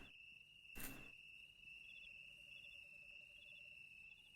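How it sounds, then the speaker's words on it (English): Crickets in the MudRunner video game chirp in a steady high-pitched trill throughout a quiet nighttime ambience, with faint pulsing insect calls, low background hum and one brief soft thump early on. "Just the silence of the frogs and the birds and the crickets."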